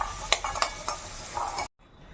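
Fried mutton scooped out of a pan into a bowl: quiet sizzle with several clinking scrapes of a spoon against metal, close, ending abruptly into near silence.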